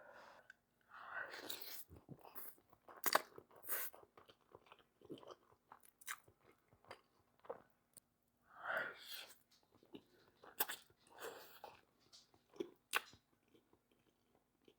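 Chicken being torn into and eaten close to the mic, with wet chewing, bites and crunches coming in irregular bursts separated by short pauses, fairly quiet overall.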